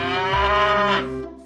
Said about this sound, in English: 3 cows